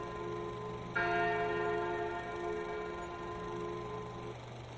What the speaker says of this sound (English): Far away a bell tolled 4 times